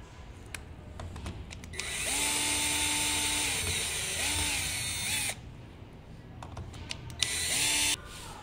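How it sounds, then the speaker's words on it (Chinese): A power screwdriver removes two screws from an electric scooter's charging port: a long high whine with rising and falling motor pitch, a brief pause, then a second shorter burst, close and clear over light handling clicks. "更换充电口，第一步先把这两个螺丝拆掉。"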